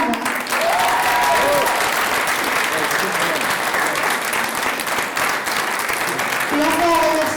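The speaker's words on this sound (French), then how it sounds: "Un applaudissement également pour la Dream Team que nous composons derrière vous" A theatre audience applauds the production team at the close of a stage show, sustained full-house clapping that holds steady throughout, with faint voices and a few whistle-like tones rising over it.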